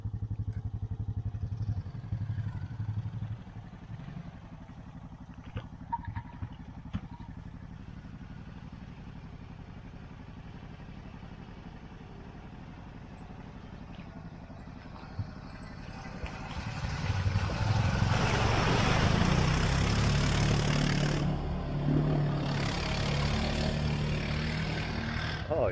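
Four-wheeler ATV engine idles and putters in the middle distance, then grows louder as it drives through freezing cold water with rising splashing and churning.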